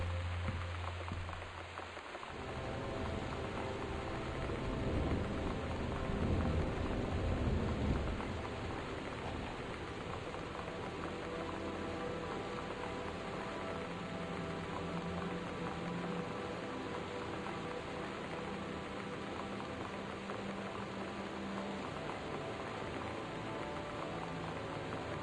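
Heavy rain and wind of a thunderstorm in the game Gone Home, a dense steady roar of downpour close by after a brief quieter opening, continuing unbroken with no voices.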